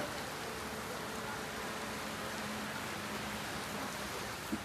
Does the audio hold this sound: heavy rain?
yes